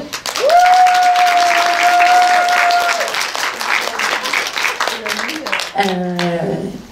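An audience applauds the Russian actress Natalia Negoda at a screening, with loud, sustained clapping from a crowd, mixed with a long sung or held vocal note and other voices over the applause.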